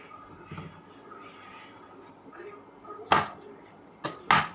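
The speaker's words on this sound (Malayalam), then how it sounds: "പിന്നെ നമുക്ക് ഇതുപോലെ അങ്ങോട്ട് ചെറുതാക്കി എടുക്കണം കേട്ടോ ചെറുതാക്കി അരിഞ്ഞെടുക്കണം" Bitter gourd being chopped into small pieces with a knife on a cutting board: a few sharp, isolated chops late on, over a quiet kitchen background.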